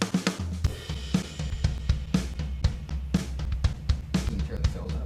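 A SoCal kit on a Logic X Drummer track plays a busy rock groove of kick, snare and bright cymbals, loud and continuous with steady punchy hits and no talking.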